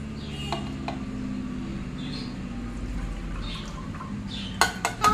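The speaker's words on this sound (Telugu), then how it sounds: "కొద్దిగా ఈ విధంగా వడపోసేసుకుందాము" Mint lemon sharbat is poured through a strainer into a vessel, giving a soft continuous trickle of liquid, with a few sharp metallic clinks of utensils near the end.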